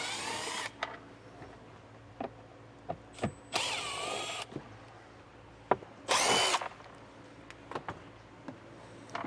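A power drill backs out Phillips head screws from vehicle trays while a Curt powered tail light converter is being installed. It runs in several short, loud, close whirring bursts separated by quiet handling noises, with no talking.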